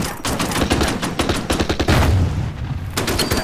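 Gunfire in the Winter War strategy game Order of Battle: Winter War. Loud, rapid bursts of shots crack in quick succession, with a short lull before another burst.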